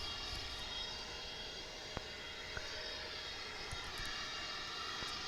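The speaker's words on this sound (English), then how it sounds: "Here comes that flight from Austin." An airliner arriving from Austin passes over DFW airport, a steady broad jet roar heard at a distance, constant in level throughout with a few faint clicks on top and no speech.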